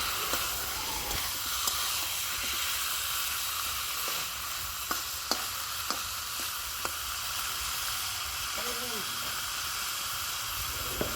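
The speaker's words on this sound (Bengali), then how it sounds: "সবগুলো মশলা ভাজা হয়ে গিয়েছে। এবার এর মধ্যে ঢেলে দিলাম মাংসগুলো।" Chicken legs cooking in fried spices in a pan: a steady, loud sizzle and hiss runs throughout, broken by scattered sharp crackles and pops.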